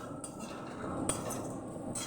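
A spoon stirring ginger paste in a cooking pan, with steady scraping and a couple of light metallic clinks close by.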